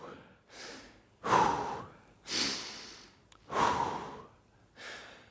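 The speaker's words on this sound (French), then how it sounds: "prenez vraiment le temps de retrouver une respiration calme" Heavy, deep breaths after a cardio workout, five loud gasping inhales and exhales in a slow, steady rhythm, close and alone with no talk.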